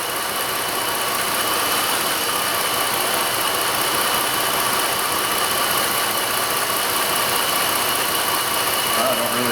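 A Jeep Liberty engine idling with its number 1 fuel injector disabled, a loud, steady mid-pitched running drone with constant vibration and no talking.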